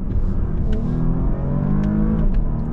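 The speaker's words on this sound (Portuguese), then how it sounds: "Tô sentindo falta de um pouquinho mais de ronco, né?" A Porsche Panamera luxury sedan in Sport Plus mode revs its engine in second gear, a steady close low drone that swells slightly, heard alone without voices.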